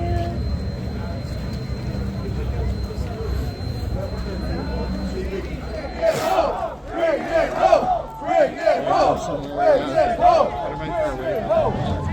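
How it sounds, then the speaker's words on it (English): Large outdoor political rally crowd waiting for Pierre Poilievre's bus in Vaughan, Ontario, with steady crowd noise that swells midway into loud rhythmic cheering and chanting, voices layered close and far. "this is the biggest crowd I've ever seen to wait for Pierre and his bus"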